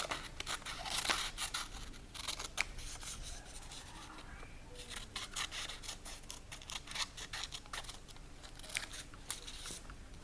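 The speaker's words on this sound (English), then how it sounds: "we can carefully, and this is with accurate cutting now, cut out our tangram shapes" Scissors snip through paper to cut out tangram shapes, producing quiet, close, irregular crisp cuts and light rustling of the sheet.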